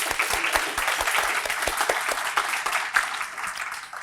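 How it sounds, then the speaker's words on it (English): Audience applause at a lecture, a steady wash of many hands clapping from a crowd indoors, sustained throughout at moderate loudness. "we want to give them a round of applause and say thank you."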